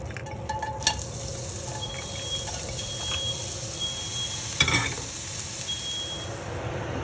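Onions and garlic frying in olive oil in a pan make a steady low sizzle, with a couple of sharp clinks and a scrape of stirring standing out over the continuous hiss.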